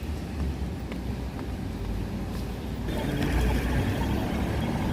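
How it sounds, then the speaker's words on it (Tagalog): Steady rain hisses and patters in a dense wash, growing heavier midway, with a low rumbling background. "Guys, umuulan na naman."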